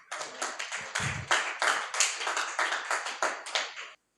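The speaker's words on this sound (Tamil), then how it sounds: "கொஞ்சம் கரங்களை தட்டுங்களேன்" A church congregation claps hands together during a sermon, a dense run of brisk, fairly close claps in uneven rhythm lasting about four seconds before stopping abruptly, with no talking.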